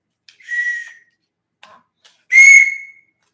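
A whistle is blown twice, first a short shrill blast and then a louder, sharper one, with a faint tap between them and no one talking.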